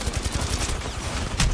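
Rapid gunfire in the Apex Legends shooter, a dense close burst of sharp shots packed into under two seconds with a heavy impact near the end, no speech over it.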